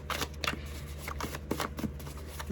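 Tarot cards are shuffled by hand in a series of quick, crisp riffling bursts, close and distinct, with short pauses between the papery flutters.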